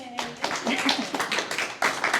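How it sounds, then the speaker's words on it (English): Brief burst of audience applause at a community energy-advocacy forum in Portland, a mix of near and distant claps with voices talking over it. "Can we get a round of applause"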